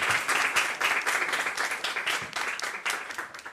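Applause from a conference audience at a digital summit venue: dense, steady clapping from a sizable crowd, close and fairly loud, swelling in slight waves throughout.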